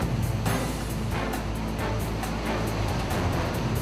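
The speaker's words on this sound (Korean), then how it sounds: "시간이 흐를수록 성난 파도는 점점 더 고약한 성질을 드러내기 시작했다" Rough, angry sea waves pounding Haeundae beach, a steady loud roar of surf with rolling crashes and no voices.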